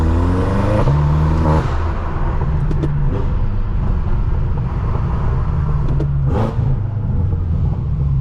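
Tuned 800HP BMW M6 driving on New York City streets toward the FDR, a loud deep engine rumble with brief revs and whirring, continuous throughout with no talk.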